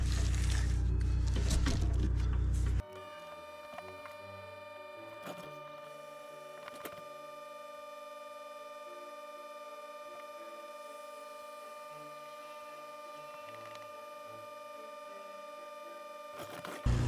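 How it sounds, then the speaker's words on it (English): A vacuum pump runs steadily while stabilizing wood in resin, giving a constant mechanical hum with a sustained tonal whine that sits alone after a louder start, with faint small bumps along the way. "I'm going to vacuum that for a bit."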